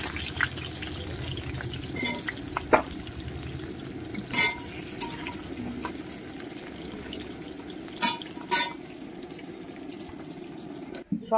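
Potatoes frying in hot oil in a home kitchen: a steady, close sizzle runs throughout, broken by a few sharp clicks and clatters.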